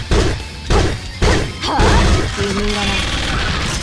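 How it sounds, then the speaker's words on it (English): Enemy exploding in Black Witchcraft, a series of heavy crashing impacts in quick succession followed by a sustained burst of debris and noise, loud and close, with a brief spoken line overlapping. "I forgot that guy was going to explode"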